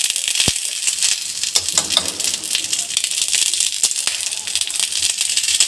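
Brinjal roasting in desi ghee sizzles and crackles in a steady, close frying hiss with light rattling and stirring sounds, no talking over it.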